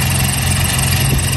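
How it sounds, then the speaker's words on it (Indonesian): A Toyota Kijang Super engine fitted with TCI ignition idles steadily, its low, even rumble close and continuous with a viscous fan whirring along with it. "ini suara mesinnya kayak gini ya, ini kayak kipas Visco-nya ya, ini yang bersuara."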